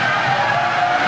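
McLaren Formula 1 car at a European Grand Prix race, a high, continuous engine whine heard steadily at a distance through broadcast sound, without pauses or breaks.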